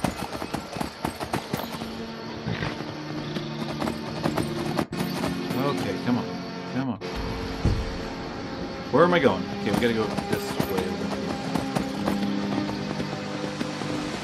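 A horse gallops in the video game Skyrim, rhythmic hoofbeats clip-clopping over steady game ambience and music while a player talks over it throughout.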